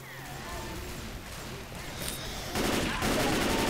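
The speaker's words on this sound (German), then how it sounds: "Alter, ich schieße nur die ganze Zeit." Rapid gunfire in Left 4 Dead 2, repeated bursts of shots growing louder and denser toward the end, with game noises and voices mixed in.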